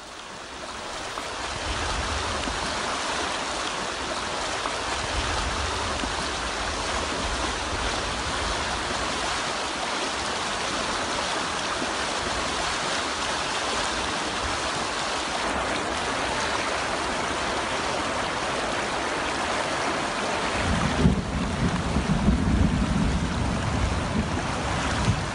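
Rain floodwater rushing through mountain valleys and ravines, a steady loud roar of churning water with wind, unbroken throughout and without voices.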